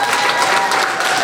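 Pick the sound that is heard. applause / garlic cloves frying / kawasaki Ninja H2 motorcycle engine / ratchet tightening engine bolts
applause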